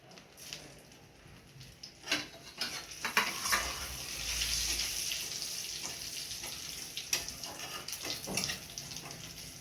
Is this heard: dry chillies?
yes